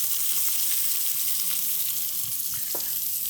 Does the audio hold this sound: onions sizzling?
yes